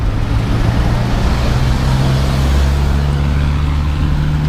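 A Honda Dream 125 motorcycle engine drones steadily while being ridden. The low hum is loud and close and mixed with wind rush, with no talking.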